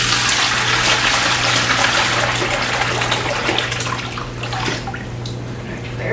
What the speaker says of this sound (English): I'm gonna go ahead and pour this bowl back in